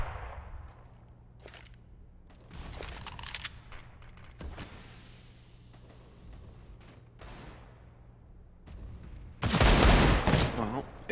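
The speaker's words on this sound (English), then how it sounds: "exchange of bullets going to be going on over here towards ramp" Gunfire rattles through a round of Counter-Strike on the Mirage map, with scattered shots early on and a loud, dense burst near the end. Game noise and voices fill the gaps between the volleys.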